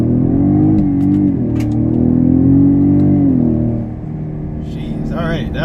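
A 2017 Ford Raptor truck with a 10-speed automatic in manual mode accelerating, a deep steady engine drone rising in pitch across upshifts, heard from inside the cab, loud and close.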